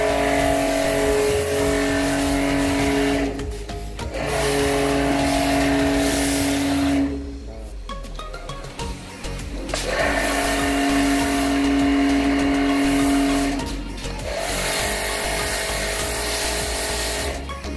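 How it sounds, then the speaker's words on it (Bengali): JPT F8 Super Combo pressure washer running steadily while foaming a car, a loud continuous motor drone with a sustained tone that cuts out briefly twice before resuming. "জেপিটি F8 সুপার কম্বো মেশিন পুরো একদম ইনস্টল করা"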